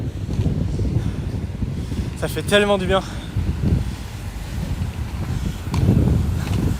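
Cool wind rushes past a roller skater outdoors, a constant low buffeting rumble that swells and fades, while someone talks in French over it.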